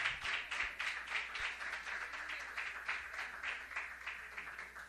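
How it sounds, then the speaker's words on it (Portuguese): A church congregation claps in a steady rhythmic beat for Jesus, regular pulses of many hands close together, with a few low thumps underneath. "E aqui vocês dão uma salva de palmas para Jesus"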